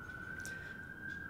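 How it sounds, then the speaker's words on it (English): A single siren wails outside, a steady high tone with a faint shifting note, distant and muffled behind the room. "Sorry about all the sirens"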